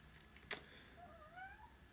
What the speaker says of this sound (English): you can hear my cat out there.